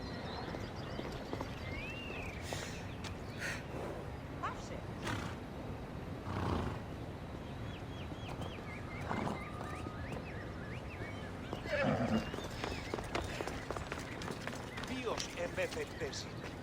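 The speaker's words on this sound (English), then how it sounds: "He's a special horse and belongs to Hades." In Assassin's Creed Odyssey, Hades' horse lets out a few neighs and whinnies over a busy game soundscape of scattered calls and rustling.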